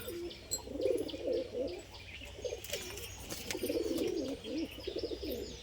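Pigeons kept as tumbling or performing birds give soft, low coos in repeated phrases, along with bursts of wing flapping and a few chirps, fairly close, with steady background noise and no talk.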